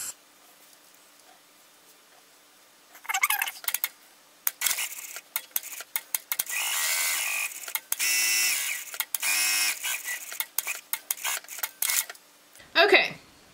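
A sewing machine stitches the lining of a Huxley bag, running in bursts of whirring, rattling mechanical noise that start and stop, with steadier stretches in the middle and brief pauses between seams.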